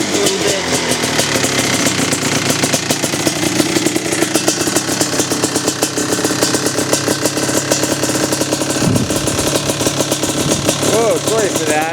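Q-lab trail bike engine running while not yet fully warmed up, a loud close buzzing rattle of rapid firing pulses throughout, with a voice speaking over it.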